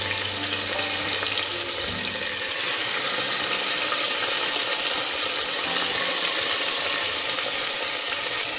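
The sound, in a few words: pieces of pork loin browning in butter in a pan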